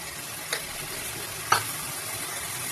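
Chowmein noodles are stirred in a hot pan under a steady low sizzle, with two distinct spatula clinks or scrapes about a second apart.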